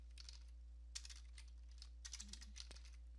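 Fingers tap a computer keyboard in short, quick bursts of light clicks with brief pauses between them. The typing is faint and close, over a low, steady room hum.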